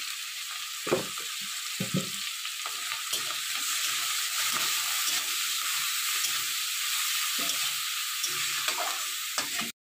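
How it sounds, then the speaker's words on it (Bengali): Prawn heads sizzle and hiss steadily in hot oil in a pan, with occasional soft stirring scrapes and clinks over the constant frying. "এখন চিংড়ি মাছের মাথাটা ভালোভাবে আমি তেলের সাথে ভেজে নিয়েছি"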